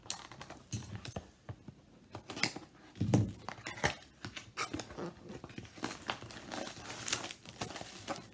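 A cardboard gift box is unwrapped and opened, giving close crinkling, tearing and papery rustles along with light tapping and rattling handling noises that run irregularly for several seconds, with no talking.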